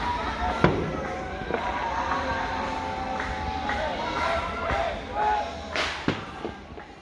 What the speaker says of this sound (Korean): 자정이 되니 온신해가 폭죽을 터뜨리네요